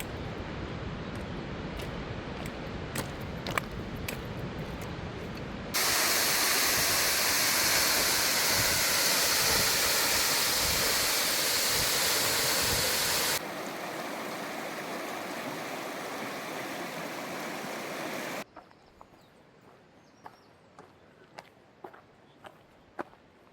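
A mountain river with waterfalls rushes steadily, the broadband roar swelling loud and close for several seconds, then settling back to a softer, more distant flow, with scattered footstep-like crunches on the trail before and after.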